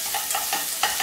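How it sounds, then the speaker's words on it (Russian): Sliced zucchini frying in a pan with garlic and herbs, a spoon stirring them through a steady close sizzle, with a few scraping strokes and a sharper clack near the end. "Перемешиваем."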